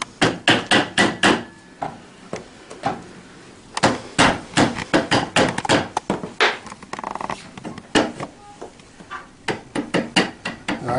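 A bolt is hammered through a scooter part on a TaoTao CY50A scooter during assembly, with loud, close, sharp repeated strikes in quick clusters separated by brief pauses.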